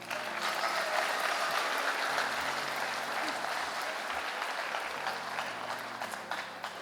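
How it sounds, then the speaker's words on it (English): Crowd applauding the 2023 homecoming court at a high school assembly, sustained clapping from many hands that swells early and then gradually tapers off. "Please give one more round of applause to our 2023 Homecoming Court."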